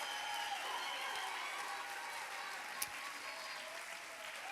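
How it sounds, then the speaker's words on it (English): Steady applause from a school audience honoring honor roll students, a dense wash of clapping lasting throughout at moderate distance, with one sharp clap standing out near the end. "these are our students who definitely deserve a round of applause for being on the principal's list"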